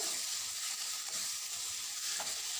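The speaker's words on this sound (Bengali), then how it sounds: "মাছ ভুনা করার জন্য পেঁয়াজ টমেটো ভেজে নিচ্ছি" Onions and tomatoes fry in a pan for fish bhuna, a constant close sizzle with a couple of faint utensil taps and stirring scrapes.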